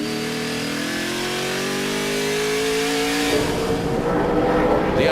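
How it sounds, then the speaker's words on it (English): Speedcar Series race car at the Bahrain International Circuit, its engine revving hard with rising harmonics, then a rougher, louder blast as it passes or shifts, continuous and close with no talk. "So there is your race leader, Uwe Olsen, absolutely chucking this car around the Bahrain International Circuit."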